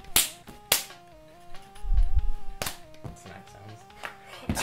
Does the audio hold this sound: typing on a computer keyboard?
no